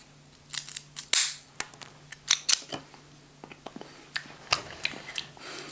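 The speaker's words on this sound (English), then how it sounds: "Today, going for a straight cut on this cigar." A straight cut taken on an Oliva Serie O cigar gives a few crisp, close snips and clicks spread through otherwise quiet room tone, with no one speaking.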